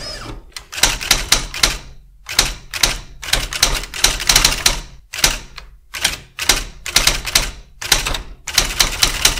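An IBM Wheelwriter 6 electronic typewriter automatically retyping a stored letter, loud and close: rapid bursts of sharp daisywheel strikes in dense runs, broken by brief pauses and carriage thumps.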